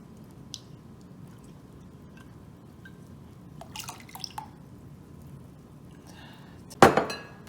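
A container is tapped to knock the last sugar into a pot of pickle brine: a few light, scattered clicks, then one sharper knock near the end in a quiet kitchen.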